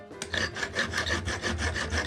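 Rapid rasping strokes of a file trimming the protruding edge of a carburetor screw head on an engine, about ten even back-and-forth scrapes, close and loud, with no talking.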